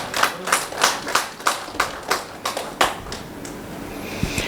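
Audience at a talk clapping in a sparse, uneven burst of about ten distinct claps that thins out and fades, with some background murmur.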